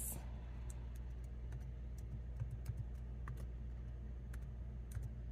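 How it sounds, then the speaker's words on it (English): Someone types one-handed on a computer keyboard, sparse soft key clicks scattered irregularly over a steady low hum in a quiet room. "It's kind of hard typing with one hand."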